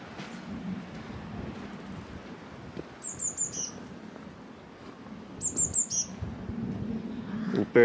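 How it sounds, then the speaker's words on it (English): A small bird high in the trees near a ruined chapel at a holy well gives two short bursts of bright chirps over an outdoor background rumble. "bird there tweeting up in the trees"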